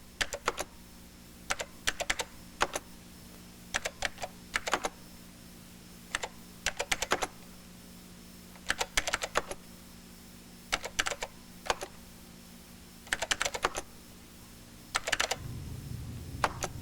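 Numbers are typed on a computer keyboard in quick bursts of crisp, close clicks separated by short pauses, with the return key pressed after each entry into spreadsheet cells.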